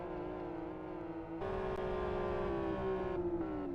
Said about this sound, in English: It's dragging the clutch massively.